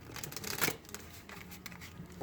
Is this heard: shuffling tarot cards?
yes